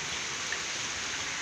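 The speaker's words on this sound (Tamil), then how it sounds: "மழை பெஞ்சு கொண்டே இருக்கிறது" Steady rain falling in Chennai, an even, continuous hiss of drops with no voices.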